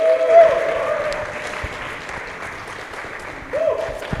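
An audience at a Pan-African youth climate adaptation forum claps to welcome a speaker, a brief burst of applause that swells, thins, then picks up again near the end, with some voice and room noise mixed in.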